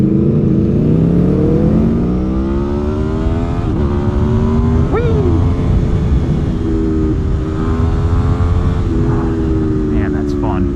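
A 2021 Aprilia Tuono V4 motorcycle with a newly installed aftermarket exhaust, loud and close, idling with a steady V4 rumble and blipped into sharp revs midway, rising and falling throughout.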